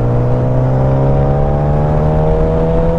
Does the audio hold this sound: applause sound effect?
no